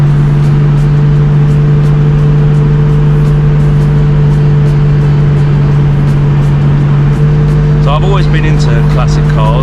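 A 1954 Wolseley 6/80 classic British car engine drones low and steady from inside the cabin while driving, with a constant mechanical hum throughout and a faint voice near the end.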